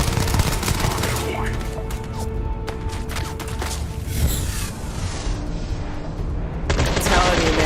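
Rapid gunfire from Starfield rattles in dense, loud bursts of shots over a thick battle rumble, with a player talking over the shooting.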